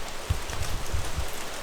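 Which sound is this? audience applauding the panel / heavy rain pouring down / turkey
heavy rain pouring down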